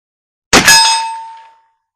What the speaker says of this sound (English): That hit hit dead center of my point of aim and the dead center of that plate out there.